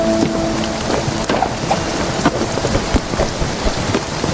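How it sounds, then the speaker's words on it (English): Steady heavy rainfall hisses continuously in the video game Spiritfarer, with soft thunder rumbles and scattered cracks beneath it, loud and dense without any voices. "hearing the thunder from the storms, and how detailed it is when you hear the rainfall sounds so realistic"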